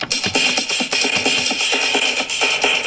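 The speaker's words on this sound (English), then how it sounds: "and now with some delays," A drum loop on a Novation Launchpad run through delay effects, with steady rhythmic hits and echoing repeats layered close and dense throughout.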